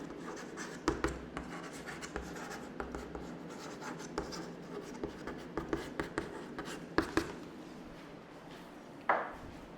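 A pen or pencil scratches across paper while a calculation for an economics numerical is worked out by hand, a quiet series of short strokes and taps with one louder scrape near the end.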